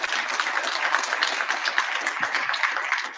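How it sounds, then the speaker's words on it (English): A crowd at a university entrepreneur talk breaks into applause, a dense, even burst of clapping that holds steady and loud throughout. "That should be worth a round of applause."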